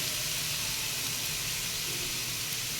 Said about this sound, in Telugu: వేయించుకొని ఈ తురుము కూడా ఆ నేతిలో వేయించుకోవాలి